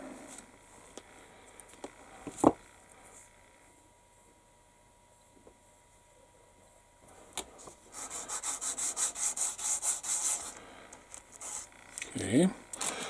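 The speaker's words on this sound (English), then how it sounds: "Letting the sander do the work" A sander lightly working resin engine parts for an Airfix B-17G scale model, with quiet scattered scrapes at first, then close, rhythmic rubbing strokes through the second half.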